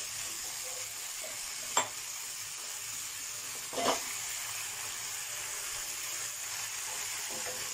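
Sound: stir-frying basil chicken in a pan

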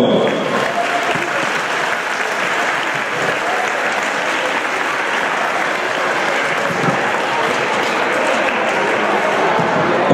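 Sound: audience applause at a prize giving

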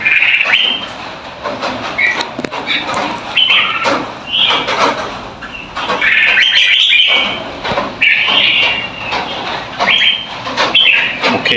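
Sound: red-whiskered bulbul chicks

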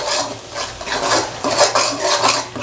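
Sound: stirring jackfruit curry masala in a pan

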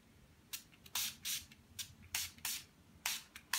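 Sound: Urban Decay All Nighter makeup setting spray being sprayed

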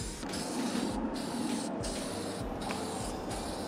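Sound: spray painting a car lip

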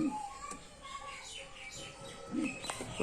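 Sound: pigeon chicks in breeding cage

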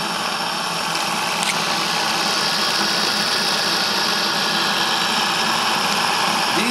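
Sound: Saito model steam engine running

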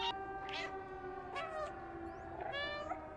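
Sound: cat meowing in the video game Stray

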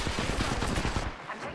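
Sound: gunfire in the video game Apex Legends

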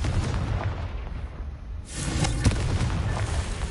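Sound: Confringo fire blast spell cast by a wand

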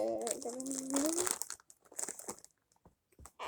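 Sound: crinkling open a bag of Doritos

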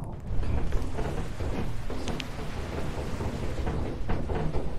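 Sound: thunderstorm in the video game Lethal Company

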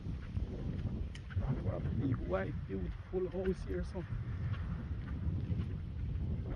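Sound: breeze blowing outdoors

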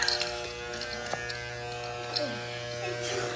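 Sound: electric shaver shaving hair on the side of the head

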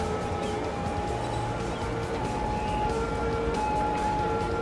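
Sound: ambulance siren in video game Cities: Skylines

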